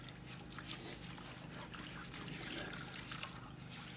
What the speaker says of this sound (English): Let me try to rinse a little bit of that off.